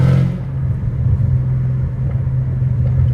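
A catless Dodge Challenger Hellcat Redeye's supercharged V8 rumbles steadily and loudly up close from inside the car, a deep low drone with a slight swell at the start and no voices.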